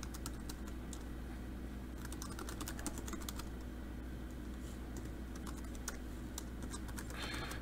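Keystrokes on a computer keyboard entering a command, heard as a steady patter of light clicks over a constant low background hum, with no speech.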